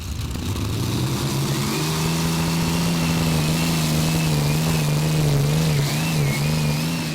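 A twin-engine pulling tractor in the 2.5-ton class at a Eurocup tractor pull in Brande, Denmark, roars loudly and continuously, its engines climbing in pitch then holding a high, wavering howl down the track.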